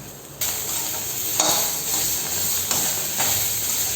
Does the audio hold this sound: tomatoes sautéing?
yes